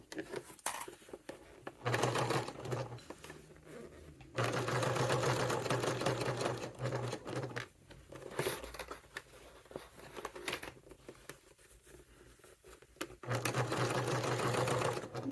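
A sewing machine stitches the gusset of a satchel in several bursts of steady, close running stitches, broken by short pauses and light rustling of fabric.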